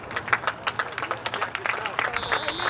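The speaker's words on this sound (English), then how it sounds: "Comes off to a nice applause here from the crowd." Spectators clap at a high school boys' soccer match as a substituted midfielder leaves the field, brisk scattered applause from a small outdoor crowd under a commentator's talk.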